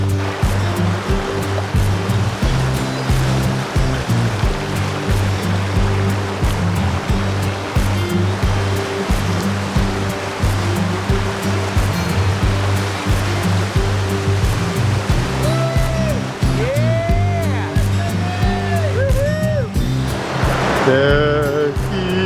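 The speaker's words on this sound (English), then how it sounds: "faster flowing whitewater." Fast whitewater rushes through a narrow gorge in Glacier National Park's wilderness, a loud, continuous roar filling the scene, with faint chirps near the end.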